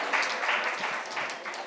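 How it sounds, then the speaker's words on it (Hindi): An audience claps at an Indian stage event on astrology and nation building, a dense, steady wash of applause filling the short stretch with no talk. "ये तालियां अगर हम सभी के कानों में और जोर से पड़े"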